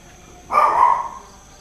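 A single short dog bark, one clear yelp-like burst lasting about half a second over a quiet background with faint insect-like hiss.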